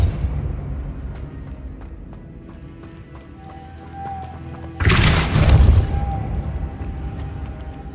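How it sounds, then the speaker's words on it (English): A Depulso repelling spell fires in Hogwarts Legacy, a sudden loud burst of impact noise midway that rumbles and fades over a couple of seconds, following quieter ambient game sounds. "Depulso."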